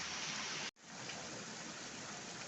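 Heavy rain during a lightning storm pours in a loud, steady broadband hiss that cuts out briefly and then resumes, with no voices.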